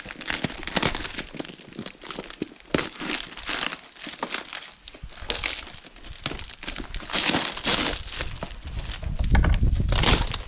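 Packing tape and plastic wrapping are torn and crinkled off a heavily taped delivery box holding car-building parts, loud close-up ripping and crumpling in irregular bursts with a few pauses, no talking.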